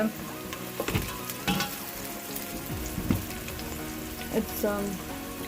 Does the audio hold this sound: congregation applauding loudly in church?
no